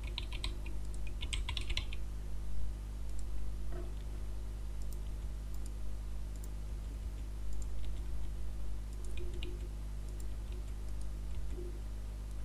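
Steady typing on a computer keyboard while entering text into a table in Microsoft Publisher, close and fairly quiet, with a few denser bursts of keystrokes and no voice.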